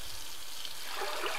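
Water pours steadily into a cooking pot holding rhubarb cut into roughly 3-inch pieces, a continuous close trickle and splash with no talking.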